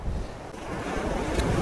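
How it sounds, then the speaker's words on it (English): Ocean waves wash over rocks on a beach below Minard Castle on the Dingle Peninsula, a steady low roar of surf mixed with wind rumbling on the microphone, continuous and close, with no voices. "I'm waiting for the waves to come in"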